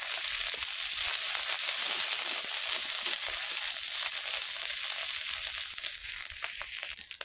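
Ground green-chilli spice paste sizzles steadily in hot oil while being stirred and cooked down for a fish curry with lentil dumplings. A close, dense hiss continues throughout with small crackles and scrapes.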